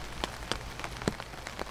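Heavy rain falling during a river trip on the New River, a soft continuous patter with scattered distinct drop impacts, brief and moderately quiet.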